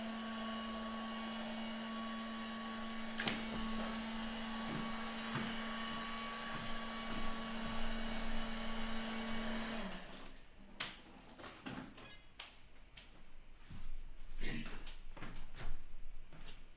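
A Roomba robot vacuum runs with a steady whirring hum and a high tonal whine, then cuts out about two-thirds through, giving way to scattered clicks, knocks and handling noises, with quiet talk in the background.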